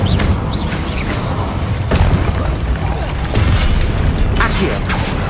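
Incendio fire spell in Hogwarts Legacy, a sustained roaring, crackling rush with several sharp bursts and pops breaking through over a steady low rumble, loud and close throughout.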